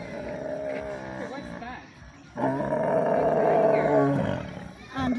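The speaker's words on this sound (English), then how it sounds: "The tiger is here." A tiger roars loudly and close, with a deep rumbling growl that swells into a long sustained roar and then tails off, followed by the start of another, over outdoor background noise.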